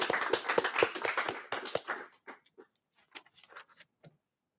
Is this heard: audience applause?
yes